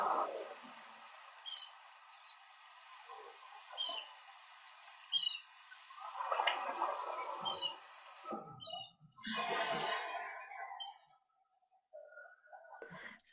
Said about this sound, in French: Il y a des mouettes.